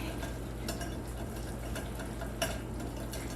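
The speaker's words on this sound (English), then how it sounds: "let's whisk it up really nicely" Pancake batter being whisked in a bowl gives light, rapid clicking and scraping over a low steady hum, with one louder tap near the middle.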